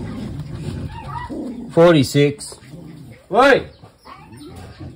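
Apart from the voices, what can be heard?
dogs barking and whimpering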